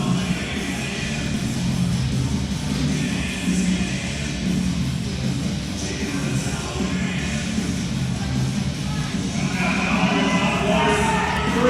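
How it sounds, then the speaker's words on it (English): A crowd cheers and yells throughout a deadlift attempt at the 2022 GPC Australian Powerlifting Nationals, with a dense, loud, sustained roar of voices that swells slightly toward the end. "The crowd is behind Darwin."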